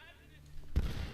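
A single loud gunshot fired in Assassin's Creed II, a sharp booming blast that bursts in after a quiet moment of game ambience and rings out to the end.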